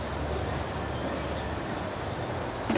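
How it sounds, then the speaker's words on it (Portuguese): A train rolls past at a bus station in João Pessoa, Paraíba, bound for Ilha do Bispo and Santa Rita, its steady wheel-on-rail rumble and faint squeal continuous and fairly close, with no talking. "Esse trem aí, pessoal, vai sentido a Ilha do Bispo, Bahia, Santa Rita, pessoal."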